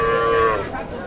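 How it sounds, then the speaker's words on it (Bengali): A small calf at the Setabganj cattle market gives a short, loud moo, with market chatter around it. "আমরা এই পাশে দেখছি কিছু ছোট ছোট বাছুর।"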